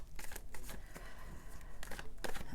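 Tarot cards are shuffled close by in a quick run of soft riffling, slapping bursts with brief pauses between them, and no voices are heard.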